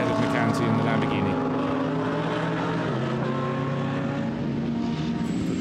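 A train of GT race cars, including a Lamborghini, roaring past nose to tail in a Blancpain GT Sports Club race in Hungary, loud continuous engine noise with shifting pitch as they pass, under commentary.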